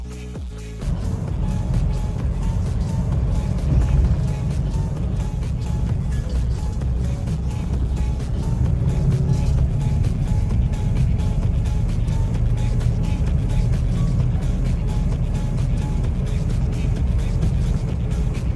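A Mahindra Bolero SUV is driven out, its engine a steady loud low rumble that holds for the whole stretch after a brief quieter start.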